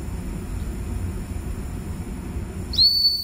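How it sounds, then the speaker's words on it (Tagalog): An SCBA breathing apparatus low-pressure alarm whistle suddenly starts near the end over a low rumbling background, continuing as a high, steady, shrill tone. "Pasado, gumagana ang ating low level alarm."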